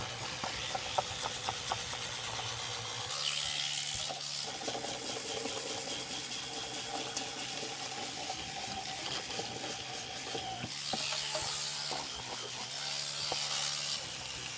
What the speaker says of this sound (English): then I scrub it with my toothbrush